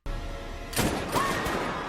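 A gunshot from the film Mockingjay Part 1 cracks out sharply partway through, followed by a second burst and a lingering echoing tail over low rumbling soundtrack ambience, with no voices.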